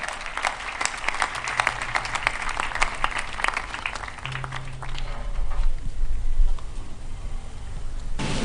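Audience applause at an inauguration ceremony for a church headquarters: steady, dense clapping from a large crowd that swells louder midway and keeps going throughout, with a faint low hum beneath.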